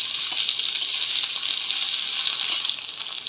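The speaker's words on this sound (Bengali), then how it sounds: "দিয়ে দেবো পেঁয়াজ কুচি" Chopped onion dropped into hot oil in a kadai gives a steady, bright hiss of frying that holds evenly and close throughout, with no talk.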